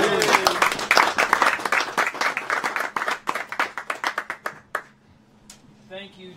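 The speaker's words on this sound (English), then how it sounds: "Let's give a round of applause for David" A small crowd claps for a startup presenter at a community pitch event, a burst of brisk, fairly close handclaps that thins to a few scattered claps and fades out, with faint murmuring at the end.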